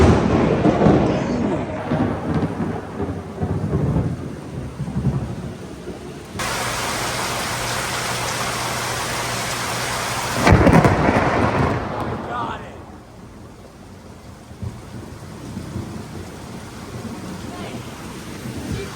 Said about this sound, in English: is one of the most powerful thunders I think I've ever heard in my life.